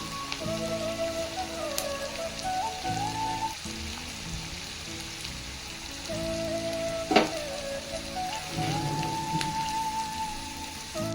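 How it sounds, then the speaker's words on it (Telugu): Thinly sliced onions and green chilies frying in oil in a kadai, a steady soft sizzle with fine crackle running throughout, a brief louder clatter midway and faint background tones. "నేనైతే ఇప్పుడు బాండీలో ఆయిల్ వేసుకున్నా ఇప్పుడు సన్నగా తరుక్కున్న ఉల్లిపాయలు వేసుకుందాం"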